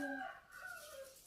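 A chicken clucks faintly on an organic farm, a brief run of soft, falling calls heard alone.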